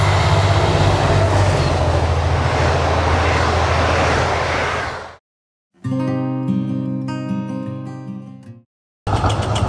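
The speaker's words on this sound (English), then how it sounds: "here comes the train" A train arrives at a Melbourne station with a loud, close, steady rumble of wheels and engine that cuts out suddenly, then resumes as a tonal, humming drone before falling silent again.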